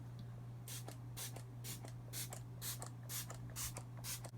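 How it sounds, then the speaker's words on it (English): Makeup finishing spray spritzes onto a face in about eight quick, evenly spaced hissing bursts, soft and close, over a low steady electrical hum. "This is actually a finishing spray, which just means that it smooths everything together and it gets rid of the powdery appearance."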